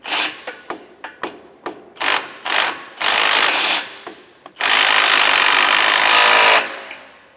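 Rapid ratcheting clicks come in short bursts, then longer sustained runs of fast clicking, close and loud, with brief pauses between strokes, tightening base plate bolts on a 2024 Cadillac Escalade.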